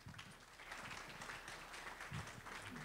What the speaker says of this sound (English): So how about a round of applause for Chris?